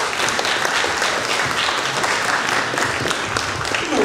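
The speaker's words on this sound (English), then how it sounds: "A round of applause one more time for Lady Evelyn." Audience applause at an evening civic gathering in Fillmore, honouring a woman named Lady Evelyn: steady dense clapping from a crowd that holds at an even level throughout, with no voices over it.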